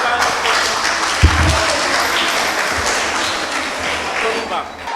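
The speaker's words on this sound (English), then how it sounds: "Clap for Lena once again." Audience applause for a young contestant at a children's podium speaking competition in the Gambia, a steady wash of clapping throughout, with a single sharp thump near the start and voices murmuring underneath.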